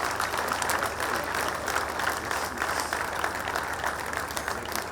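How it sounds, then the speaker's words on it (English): Steady applause from a dinner audience at a political party gathering, dense continuous clapping that fills the room throughout with some crowd murmur underneath. "I want you all to specially clap and appreciate them and their supporters."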